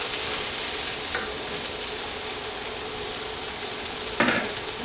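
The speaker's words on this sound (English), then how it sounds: "So we're just sauteing this cabbage." Cabbage sautéing in a pan gives a steady, close sizzle throughout, with a couple of brief scraping stirs partway through and near the end.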